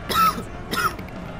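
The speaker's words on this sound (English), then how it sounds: "Had to cough" Two short, throaty coughs sound close by, about half a second apart, each a sharp burst fading into quiet room tone.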